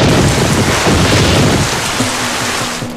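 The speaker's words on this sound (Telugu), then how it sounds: "వాన చినుకులు పడుతున్నాయి" Rain falls steadily, a dense loud wash of drops with a low rumble, easing slightly toward the end, with no speech over it.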